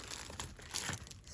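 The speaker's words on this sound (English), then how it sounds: "Let me open this bag." A plastic bag crinkles and crackles close up as it is opened, in a quick, quiet burst of irregular rustles and small tearing sounds.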